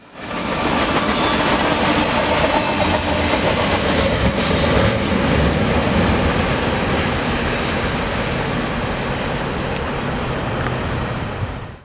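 A Kansas City Southern freight train rolls past on rails in North Louisiana, a loud, steady roar of wheels and cars that fills the whole stretch without letup.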